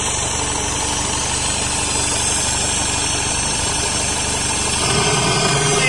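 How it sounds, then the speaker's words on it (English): A 2009 Mini Cooper S R56 engine idles steadily during a Seafoam treatment, giving a continuous near rumble with a faint knocking vibration and no speech. "you would hear the engine just like start sucking it in"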